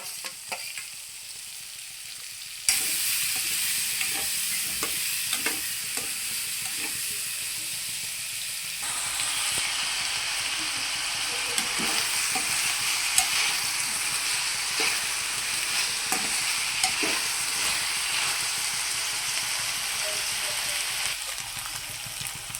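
Chopped onions fry until golden for a salt fish curry, with a close sizzle and stirring clatter. The sizzle jumps louder as the onions hit the oil, then settles into a steady hiss under repeated spoon scrapes, with no talk.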